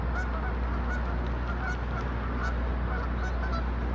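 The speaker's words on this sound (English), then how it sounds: "And ducks. Lots and lots of ducks." Several ducks honk and call repeatedly over a constant low background rumble, the calls scattered and fairly distant, by a river at night.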